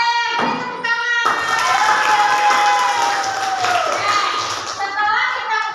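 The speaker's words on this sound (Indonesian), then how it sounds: "Oke, beri tepuk tangan." A classroom of children claps and cheers together in a loud, sustained burst, with shouts and voices rising above the applause before it trails off.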